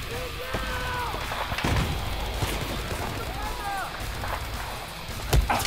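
Gunfire and distant blasts in Battlefield 4 multiplayer, scattered sharp shots and thuds through a busy battlefield ambience, with a louder crack near the end.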